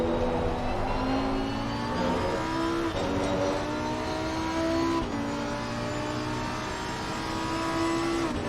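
The Lamborghini GT3 EVO 2 race car in the ACC sim racing game revs loud and close with a constant engine roar. The pitch climbs and drops several times as it shifts up through the gears.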